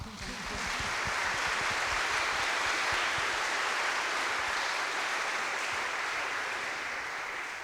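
Sustained applause from a crowd, a dense and steady patter of clapping that holds loud for several seconds before easing slightly at the end.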